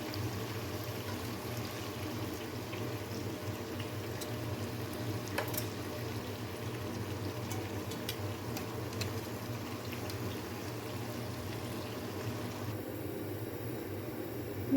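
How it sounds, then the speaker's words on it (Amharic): Water poured into a pot of chicken gives a steady, continuous liquid rush that runs evenly throughout, near and moderately loud, with no talking. "የሚያስፈልገኝን ያክል ውሃ ጨመርኩኝ።"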